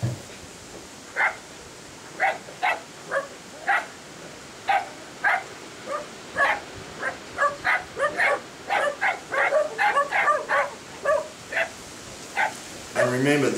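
Young kelpie puppies bark at sheep along a fence, a rapid run of high, yappy barks and yips that grows denser and more overlapping toward the end, moderately close, with no talk over it.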